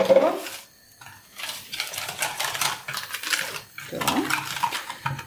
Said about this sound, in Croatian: I sad ovaj ostatak mlijeka jednostavno umutiti